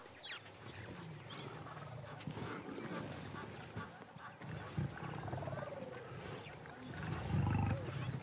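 Lions roar on the African savanna, with a low, throaty roar rising toward the end over a busy bed of birdsong and other wild-animal calls at moderate distance.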